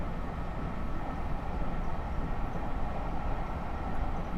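Amtrak Pacific Surfliner train running from LA toward San Diego in Trainz Simulator Classic, a steady, continuous rumble of rolling rail noise throughout, with no talking.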